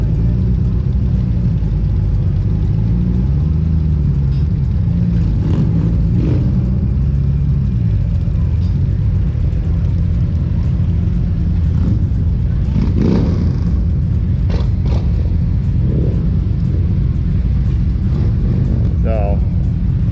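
Honda Goldwing GL1500 motorcycle engine on a Toys for Tots charity group ride, a loud steady low rumble with rising revs as bikes pull off, wind buffeting throughout and a voice talking over it.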